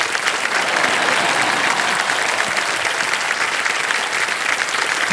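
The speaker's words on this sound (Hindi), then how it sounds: "तालियां" Studio audience on the KBC quiz show bursting into sustained applause, a thick, loud, continuous roll of clapping that fills the room throughout.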